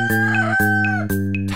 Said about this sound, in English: Rooster, rooster. Cock-a-doodle-doo.